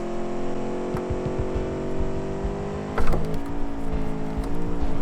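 A sports car in a driving video game slides sideways, its engine humming steadily with a brief surge of revs partway through, close and continuous.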